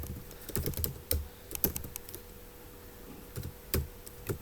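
Code being typed on a computer keyboard, with close, irregular bursts of key clicks and short pauses between them and no voices.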